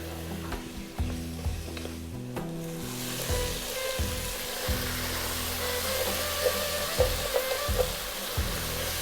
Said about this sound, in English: let's just cook this tomato puree or tomato paste out a little bit